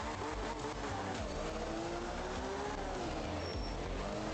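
A rally car engine drones in the video game The Art of Rally, a continuous mid-pitched whine that rises and falls with gear changes and loud, steady racing noise throughout.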